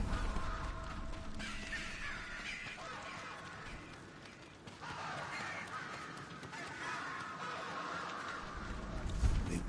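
Crows caw repeatedly in a village in Ghost of Tsushima, their harsh calls overlapping over a constant ambient background at moderate distance.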